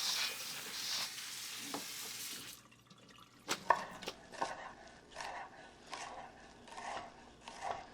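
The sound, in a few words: chopping onion and broccoli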